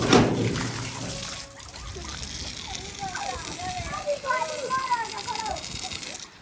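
Bathwater splashes and pours steadily as people and children bathe together at a haveli in summer heat, with lively voices talking and calling over the watery sounds.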